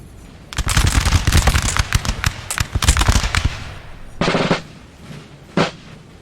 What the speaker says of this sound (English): Russians already firing off some volleys.